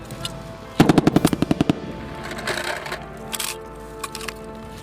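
Rapid burst of about ten gunshots fired at a military shooting range, loud and close, followed by scattered fainter shots and range noise.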